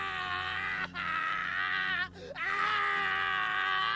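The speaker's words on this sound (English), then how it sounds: "It was the scream of a man in terrible, terrible pain." A man screams in terrible agony, a loud, drawn-out anguished wail broken by two brief gasping pauses before resuming, with no other voices.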